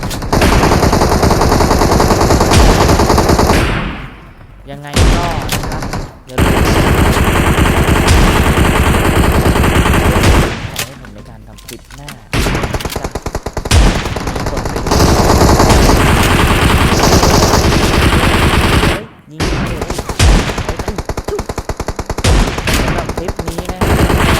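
Gunfire from shotguns in the mobile battle-royale game PUBG Mobile, rendered as dense, loud bursts of repeated shots with a few short pauses between volleys, continuing for most of the stretch with no talking.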